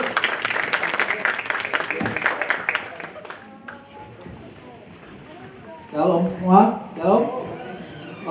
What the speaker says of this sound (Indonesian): kita kasih tepuk tangan untuk tim presiden dulu